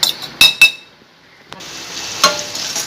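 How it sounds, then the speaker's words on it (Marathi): Gram flour roasts in a pan for paneer bhurji with a soft steady sizzle, broken by a few sharp clinks of a utensil stirring against the metal, close and alone. "हे आपल्याला हलकंसं भाजून घ्यायचं आहे"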